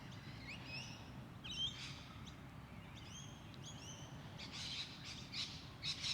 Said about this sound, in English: Picking up those lovely bird sounds in the park today.